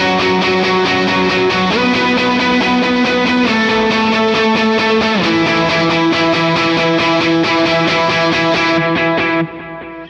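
Distorted electric guitar plays muted octave lines with a steady, driving rhythm through a Helix-style effects rig, loud and continuous with no talking, then drops off near the end.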